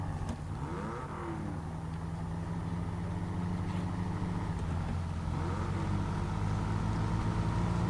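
A low, steady truck engine rumble idles throughout with a faint uneven chug, continuous and fairly close, with no voices, in the video game SnowRunner.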